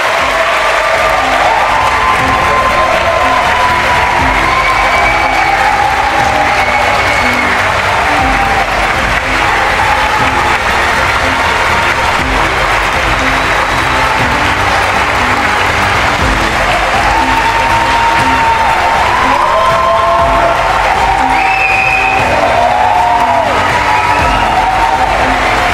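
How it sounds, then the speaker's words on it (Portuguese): A large crowd at a political gathering gives sustained, loud applause mixed with cheers, whoops and scattered shouts, a continuous roar of clapping that holds for nearly half a minute. "peço uma salva de palmas para o Rafael da Silva Cunha"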